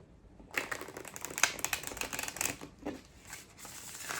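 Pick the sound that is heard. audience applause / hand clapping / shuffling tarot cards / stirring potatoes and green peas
shuffling tarot cards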